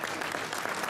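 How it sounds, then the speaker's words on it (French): A crowd applauds the winner of a regional enduro motorcycle category at an awards ceremony, steady dense clapping filling the whole moment without letup. "vous pouvez l'applaudir comme il se doit"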